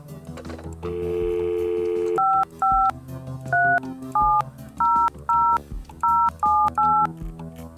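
A string of short two-tone phone keypad beeps in the puzzle video game Please, Don't Touch Anything 3D, evenly spaced, follows a steady dial tone over a low musical backdrop.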